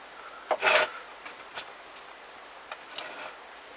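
An M6 die cleaning the threads of a Yamaha Dragstar 650 bolt held in a vise, a short grating rasp of metal followed by a few scattered faint ticks and scrapes, close and quiet with no speech.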